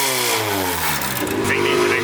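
A Honda K24 engine in a 240 hatch runs with no exhaust fitted, giving a loud, raw, steady drone close by with a slight rise in pitch near the end.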